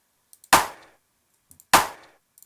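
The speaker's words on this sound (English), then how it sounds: "the original sound consists just a one shot of clap that sounds like this" A one-shot clap sample in Fruity Loops (FL 11) is triggered twice, about a second apart, each hit a sharp, dry, loud snap with a short decay and tiny ticks between.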